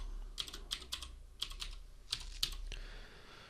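Someone types a password on a computer keyboard, a quick run of close, crisp key clicks in small bursts over a faint background hum.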